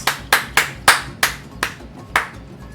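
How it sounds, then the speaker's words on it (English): Seven sharp hand claps in an uneven rhythm, loud and close, each with a quick decay, with no voices in between. "sometimes people just need a clap"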